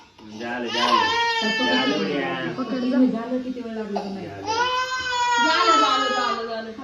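An infant boy bawls at his hair-shaving ceremony at home, loud and close, in long wailing bursts broken by gasping breaths.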